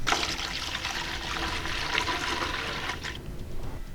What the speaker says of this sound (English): First step is to pour our distilled water into our mixing container.